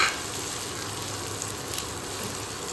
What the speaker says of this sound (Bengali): কুচনো পেঁয়াজটা দিয়ে দিলাম, এবার নাড়াচাড়া দিচ্ছি।